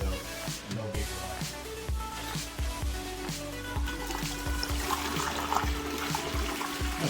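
Liquid for homemade hard cider being poured into a container, a continuous gurgling splash with bubbling trickles running for several seconds, close and fairly loud.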